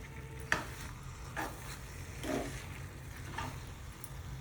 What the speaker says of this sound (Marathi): त्याच्यावरती कोथमीर टाकायची आणि परतून घ्यायचं